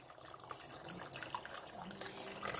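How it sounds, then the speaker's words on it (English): Warm water poured into a cooking dish, a faint, continuous trickling and splashing with small drip-like accents, quiet and close, with no voices. "I'm putting some water in it,"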